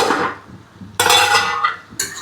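A metal lid clanks down onto a pot of cooking paneer, two sharp bright clatters about a second apart following a softer stirring sound, close and loud.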